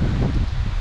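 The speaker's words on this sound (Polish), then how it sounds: "Strasznie wiatr wieje od północy dzisiaj." Strong north wind blowing across open farm fields and meadows, roaring steadily as loud, close buffeting against the microphone, with no voices.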